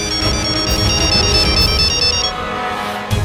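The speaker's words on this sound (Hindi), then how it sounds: "फोन बज रहा है।" A phone ringtone plays a bright, repeating electronic melody for about two seconds and then stops, over a dramatic TV scene with background music.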